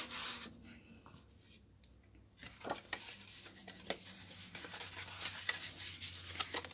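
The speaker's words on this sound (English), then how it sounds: "Take my bone folder, make sure there's no bumps of glue there." Bone folder rubbing glued paper flat during paper crafting, a soft close scraping and rubbing, faint at first and then continuing in short repeated strokes.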